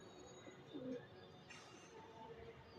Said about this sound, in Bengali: খুবই ছটফটে কবুতর